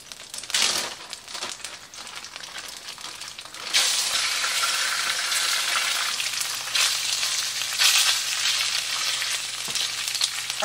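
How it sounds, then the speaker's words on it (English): Chicken sizzles loudly in a hot pan, a steady crackling hiss that swells once the meat hits the oil, with occasional stirring scrapes. "So here's where we're gonna cook the chicken."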